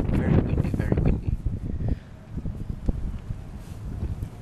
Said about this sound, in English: Wow, very windy.